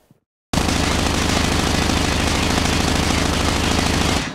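MSMC submachine gun fired in Call of Duty Mobile, one long unbroken burst of rapid automatic shots starting abruptly after a short silence and running loud and close for about four seconds.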